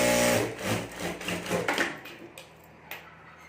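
A sewing machine stitches fabric laid over a zip for a homemade clutch bag, a fast loud whirring rattle up close for about two seconds before it runs down and stops.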